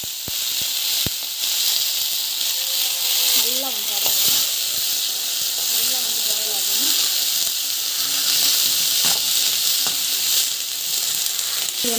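Onions and capsicum frying in a pan give a constant bright sizzle and hiss throughout, close and fairly loud, with a person talking quietly over it and a few clicks of utensils.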